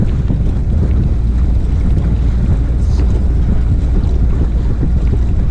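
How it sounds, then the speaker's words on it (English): Strong wind buffets the microphone on a boat with a constant low roar and rumble, steady and loud throughout, with no voices. "Of course, the wind's blowing."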